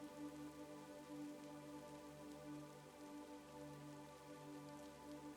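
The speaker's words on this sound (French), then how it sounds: "l'air s'humidifie pour laisser venir cette pluie fine, tiède et incroyablement légère" Fine, light, warm rain falling steadily, a soft continuous patter with no break in its texture, gentle and even throughout.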